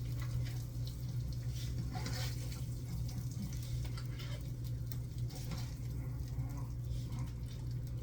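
Plant-based chicken fried steak frying in a hot pan, a steady close sizzle with a low cooking hum underneath and occasional clinks of utensils, continuous throughout.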